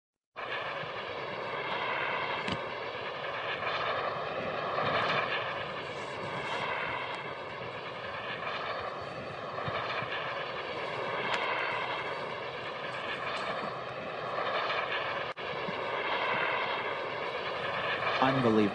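A jet-powered wing carries a pilot in flight over the English Channel, giving a continuous distant engine roar that swells and fades slightly throughout, under excited commentary.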